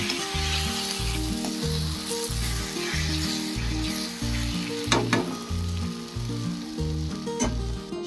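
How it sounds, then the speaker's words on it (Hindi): Mushrooms frying in a kadhai with curd give off a steady, loud sizzle, with tuneful music playing underneath throughout. "ये बन रहा है अपना टेस्टी सा मशरूम"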